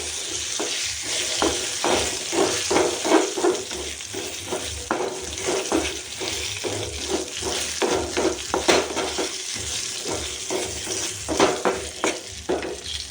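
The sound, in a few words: stirring salt into frying onion tomato chutney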